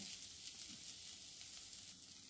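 Boiled potatoes fry in hot ghee with cumin, giving a steady, even sizzle that holds at a constant level throughout with no voices.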